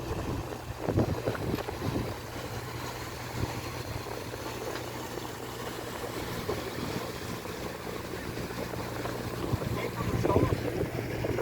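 Steady low engine rumble of boats passing along a canal toward a bridge, with wind buffeting the microphone throughout and a faint voice now and then.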